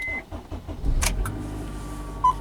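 A Honda Accord with a turn-knob starter cranks and fires up, a brief low rumble rising as the engine catches, followed by faint interior clicks and a quiet settling idle.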